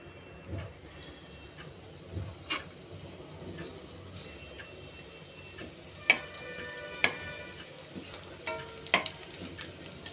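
Curry leaves hit hot oil for a Kerala Onam inji puli, making quiet sparse crackles and sharp pops over a low sizzle, with a cluster of louder spits toward the end.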